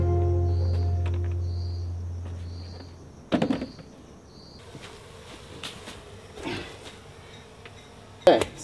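Honeybees escaping from a hive box inside a car give a low droning buzz that fades over the first few seconds, followed by quieter buzzing, several sharp knocks and handling bumps, and a voice speaking.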